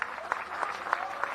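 A crowd at a Gyumri mayoral campaign rally for candidate Karen Simonyan claps in a steady rhythm, with sharp accents about every third of a second over a dense, continuous roar of clapping hands.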